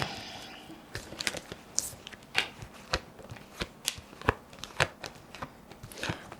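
Quiet, close crisp flicking and snapping of tarot cards being shuffled, irregular taps every half second or so, with no voices.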